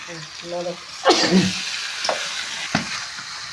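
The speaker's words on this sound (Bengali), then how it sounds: "তো সবগুলো দিয়ে একটু করে কষে নিচ্ছে" Chicken being stir-fried in a pan for chicken kosha, with a close sizzle and scraping stir strokes, a few sharp spatula knocks, and a brief voice near the start.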